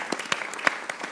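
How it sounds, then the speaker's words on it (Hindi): Audience applause in a Pakistani cricket comedy show studio: a short, dense burst of clapping with a few sharper individual claps standing out, moderately loud and steady, with no voices over it. "फखर जमान के लिए भी तालियां बजाना चाहता हूं"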